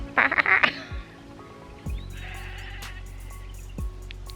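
Distant goats give a quick series of wavering bleats, followed by quieter scattered calls over faint outdoor ambience in the Perth Hills bush of Walyunga National Park.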